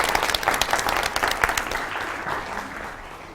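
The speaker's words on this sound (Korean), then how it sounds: "교수님 박수로 모시겠습니다" A business seminar audience applauds to welcome a Seoul National University professor. Dense, close clapping is loud for about two seconds, then thins and fades out.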